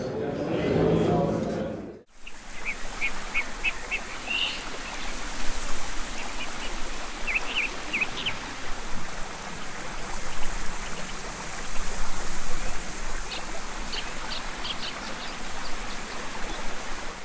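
Steady rushing stream water fills a forest soundscape, with a few faint bird chirps scattered over the constant flow after a brief opening sound.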